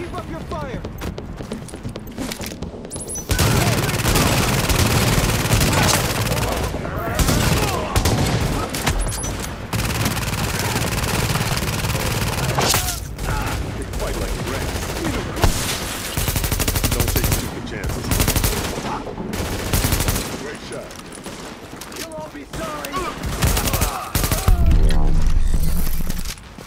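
Rapid automatic gunfire and bursts of shooting from the video game The Division fill the scene almost continuously, loud and dense, with voices calling out between and over the shots.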